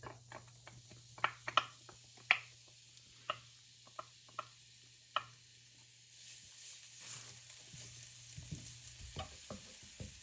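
Garlic browns in a few tablespoons of hot cooking oil: scattered sharp pops and crackles come first, then a continuous soft sizzle builds up over a faint steady hum.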